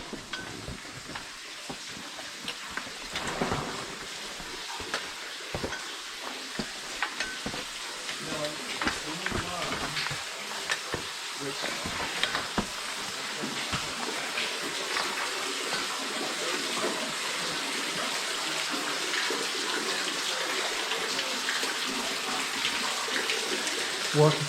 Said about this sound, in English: Water tank and water percolating through the roof.